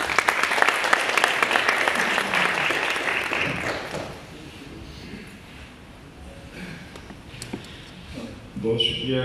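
A seminar audience at the Governor House in Peshawar breaks into loud applause that gradually thins and fades, with a few scattered claps and some voices emerging toward the end.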